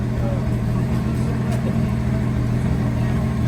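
A 1965 Ford Mustang's 200 cubic inch inline six idles steadily and loudly nearby, a constant low drone with no revving.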